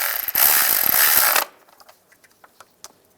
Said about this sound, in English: Snug the bolt down.